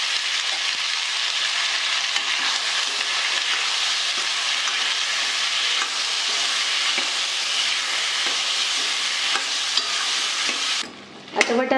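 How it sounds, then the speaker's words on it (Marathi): Green peas and potato pieces sauté in hot oil, with a steady, close sizzle and light stirring running unbroken for about eleven seconds, then a brief drop near the end before the frying noise resumes. "आता याच तेलात वाटाणा आणि बटाट्याची फोडी घालून चांगला परतून घेऊ"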